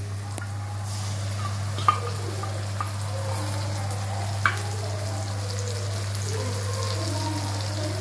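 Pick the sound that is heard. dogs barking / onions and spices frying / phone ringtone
onions and spices frying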